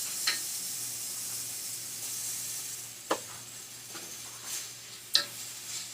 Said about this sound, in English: Let's add in these green peppers.